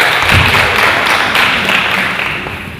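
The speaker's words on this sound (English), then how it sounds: "Can we clap for her again?" An audience claps for someone speaker at a pharmacy event, a dense, loud wash of applause that gradually fades over a few seconds.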